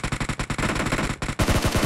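Rapid automatic gunfire in the PUBG video game, a close, loud stream of evenly spaced shots that pauses briefly and then resumes with heavier, booming rounds.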